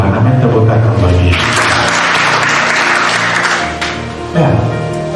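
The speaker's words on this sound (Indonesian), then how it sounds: "Tepuk tangan bagi." Applause from a church congregation fills the space, a dense steady clatter of clapping that swells and holds for several seconds before thinning out.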